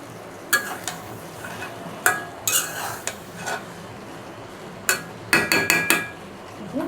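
A utensil stirs fish roe fry with coriander leaves in a pan, giving sharp irregular metallic scrapes and clinks over a soft frying hiss, with a quick cluster of taps near the end.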